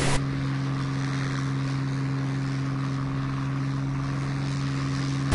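Propeller aircraft engine from the game War Thunder drones steadily and continuously, a loud sustained hum with a strong low tone and no other sounds over it.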